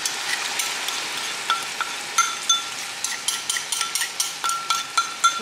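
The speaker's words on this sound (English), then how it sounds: "I'm gonna stir it up, make sure all that sugar is loose in there" A spoon scrapes and stirs sugared food in a pan, with rapid irregular clinks and light sizzling at close range, alone without talk.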